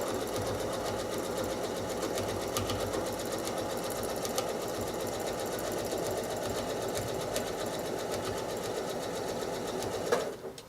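A sewing machine running steadily through free-motion quilting on a spinning square block, with a continuous close, loud whir of stitching that holds for the whole stretch and eases off near the end.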